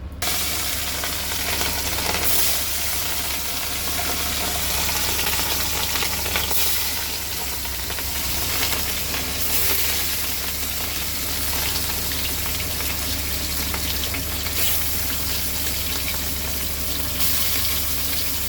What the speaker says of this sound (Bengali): মাছটা এখন ফ্রাই হচ্ছে